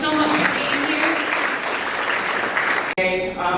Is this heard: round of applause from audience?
yes